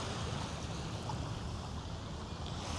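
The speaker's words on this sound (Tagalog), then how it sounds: "Ganun kalakas yung alon." Strong sea waves at a Maldives island resort beach wash and roar steadily as a dense, broadband surf rush with some wind, fairly faint and continuous, with no voices.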